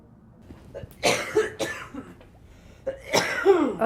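A patient in an isolation care setting coughs in three separate harsh, chesty bursts spaced a second or more apart, close and fairly quiet, with no talking between them.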